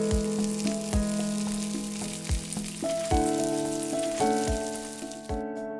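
Steady sizzling of meat frying in a hot pan, crackling continuously with faint clinks and stirring, close and moderately loud.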